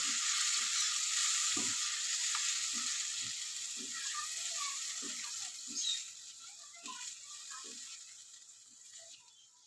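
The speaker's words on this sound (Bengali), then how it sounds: "মশলাটাকে আমি ভালো করে কষিয়ে নেব" Spice masala of ginger-garlic paste, turmeric and salt frying for egg curry, a steady sizzle in a pan broken by repeated scraping strokes of a spatula, fairly close and moderately loud.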